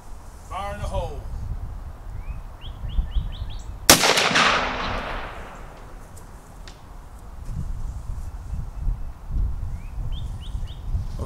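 One loud, close shotgun blast fires a 3-inch Fiocchi Magnum buckshot shell with a magnum primer, followed by a long echoing decay outdoors, with birds chirping before and after.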